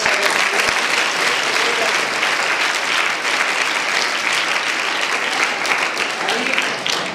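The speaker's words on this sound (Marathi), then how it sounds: "या गुरुजनांसाठी एकदा टाळ्या वाजवा" Schoolchildren at a Rotary school clap for their teachers in a long, loud, continuous round of applause, dense and even throughout with crowd noise mixed in.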